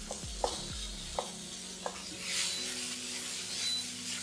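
Garlic and onion fry in oil in a pan, a soft sizzle under a few brief scraping stirs near the start, then a steadier hiss swelling and fading with no one speaking.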